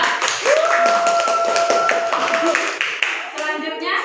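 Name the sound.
applause for group 2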